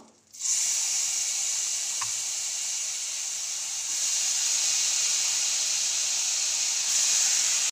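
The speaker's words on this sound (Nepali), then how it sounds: "एड गरेपछि यसलाई सुक्खा हुन्जेलसम्म हामीले यसरी नै भुटी नै रहनुपर्छ" Grated carrots fry in melted ghee, giving a steady loud sizzling hiss that continues without a break, with a faint clink of a utensil briefly audible.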